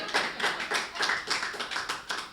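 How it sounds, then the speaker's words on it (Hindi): A live audience at a Hindi poetry gathering claps steadily, the rhythmic applause holding throughout at a fairly loud level, with no talking. "उस पर आपकी तालियां उठनी चाहिए"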